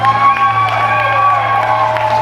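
A county fair grandstand crowd cheers and whoops for a driver at a rough truck event, loud and sustained, with an engine drone underneath and a voice over the loudspeaker.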